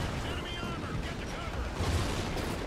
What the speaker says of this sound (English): What are these, 9 bangs?